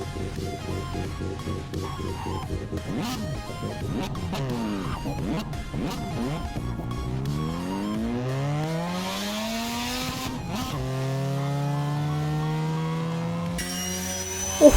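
A Mazda RX-7 race car engine in Assetto Corsa revving and rising in pitch through the gears, with gritty tire skid noise underneath, steady and loud throughout.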